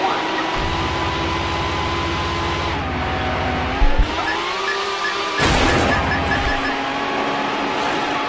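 A car chase in the racing game Need For Speed Hot Pursuit 2 with a Mercedes-Benz CLK GTR: a loud engine whine that rises and falls with gear changes, a brief tire skid and a sharp impact, and a police radio voice speaking over it.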